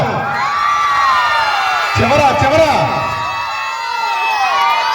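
At a village Sankranthi celebration, a crowd of parents and children breaks into loud cheering and whooping mid-stretch, rising over a public-address voice and background hum before settling back.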